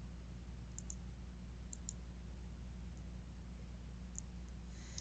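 A few quiet, crisp clicks of a computer mouse come in pairs at irregular gaps over a low, steady hum.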